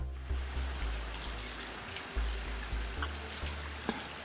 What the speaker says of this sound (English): You see the water dripping here a little bit because we're in October.